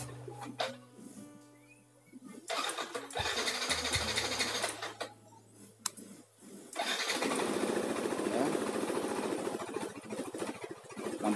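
A motorcycle engine cranks with a whirring starter, sputters, then catches and settles into a loud, steady running rattle close by, with tones and clicks from wiring tests before it.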